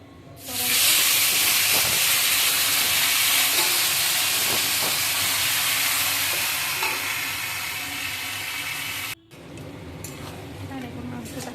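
Goat meat dropped into a hot pan, bursting into a loud, broad hiss almost at once and sizzling steadily for several seconds before a brief break, then quieter crackling continues with a faint voice in the background.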